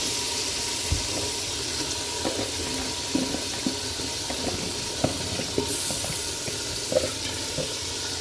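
Water runs steadily into a clay cooking pot, a continuous splashing wash with small clinks and bumps scattered through it, close by and moderately loud.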